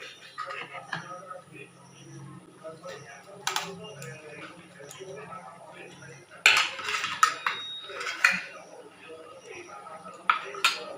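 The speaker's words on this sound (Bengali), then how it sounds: "এবার এর মধ্যে দিয়ে দেবো পনির কোপ্তাগুলো" Paneer koftas dropped into boiling milk in a pan, heard as soft splashes and sharp clinks of utensils against the cookware, with a steady low simmer underneath and occasional louder knocks.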